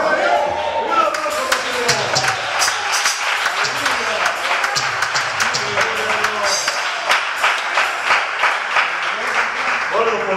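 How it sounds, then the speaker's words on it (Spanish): A church audience applauds steadily for about ten seconds, dense clapping close and loud, while a voice speaks over it. "aplauso para ti!"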